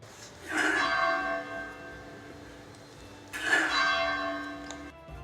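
A church bell on the Semarang coast tolls twice, each strike ringing out clearly and decaying slowly in open coastal air, with no voices over it.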